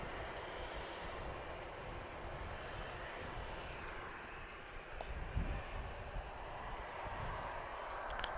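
A passenger airplane taxiing toward its parking stand at Madeira Airport, a steady broadband jet engine roar heard from a distance, fairly faint and continuous with no voices.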